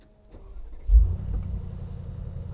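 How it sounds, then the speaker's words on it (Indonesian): Mercedes-AMG G 63 V8 limousine engine starting up: a short starter whir, then the engine catches with a loud low roar and settles into a steady rumbling idle, close up. "Maka mobil akan segera menyala dengan raungan khas dari V8-nya si AMG."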